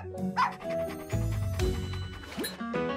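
A cartoon dog in a Barbie animation gives a mix of short barks, yips and whimpers over background music, loud and close.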